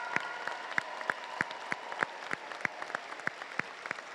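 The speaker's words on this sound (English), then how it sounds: "let's give a huge round of applause to all of these amazing students" A thin patch of clapping from an audience honoring students at a robotics district event, with sparse, distinct hand claps at a steady pace, moderately near and fairly quiet.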